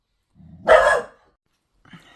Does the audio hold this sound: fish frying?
no